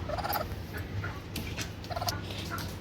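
A few faint clucking calls from a laying hen come in short bursts over a quiet background of low rustling.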